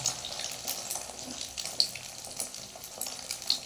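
An egg frying in hot oil as it puffs up like luchi, giving a steady, faint crackling sizzle with small pops throughout.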